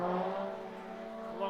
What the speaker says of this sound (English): V-Race 1 of Cameron Edwards in the Porsche is coming down